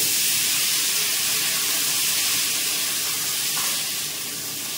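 Panch phoron spices crackling in a little hot oil in a pan, a loud, dense, continuous sizzle and hiss that eases slightly toward the end, with no voices.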